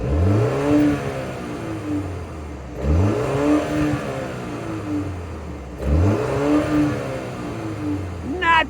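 A 2025 BMW X2 28i xDrive's 2-liter turbocharged four-cylinder exhaust, heard up close at a standstill in park, rises in three distinct rev blips, each settling back toward a steady idle hum in between.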